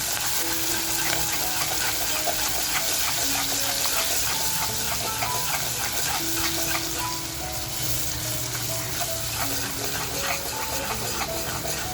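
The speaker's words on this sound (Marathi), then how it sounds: "मिरची आणि कोथिंबीर मी टेचून घेतलेली आहे, ती अगोदर तेलात टाकते" Chopped green chilies and coriander frying in hot oil in a home kitchen, with a steady, close sizzle and occasional stirring clinks throughout.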